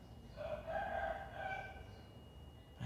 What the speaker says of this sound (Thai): โอ้มีเสียงไก่ขันด้วยนะครับแถวนี